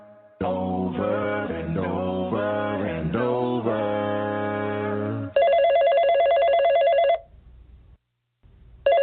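A telephone rings loudly: a pulsing melodic ringtone-like tone, then a sharper trilling bell ring that stops, pauses in silence and starts again at the end.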